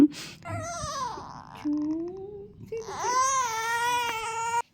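A baby girl cries in the evening after her third-month vaccination, with loud, close wails broken by short pauses and rising again in drawn-out bursts.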